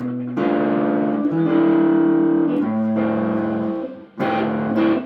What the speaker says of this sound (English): I wasn't expecting to like that with the distortion